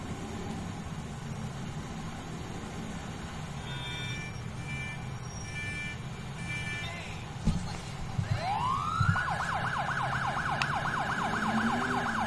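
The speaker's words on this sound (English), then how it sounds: "sometimes I use the siren to get away, so we'll go ahead and do that" In the video game GTA IV, a police car siren starts up partway through, a loud rising and falling wail over steady engine and traffic noise, with a few short beeping tones heard earlier.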